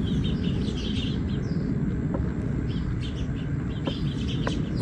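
Small birds chirping and tweeting outdoors in a garden of succulents, scattered bright calls repeating at moderate distance over a steady background hum.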